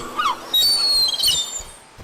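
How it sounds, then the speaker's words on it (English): Seagull cries in a self-made RPG game, a few sharp, high squawks and calls rising out of quiet ambience, fairly loud and close, no talking. "the seagulls are a little bit loud"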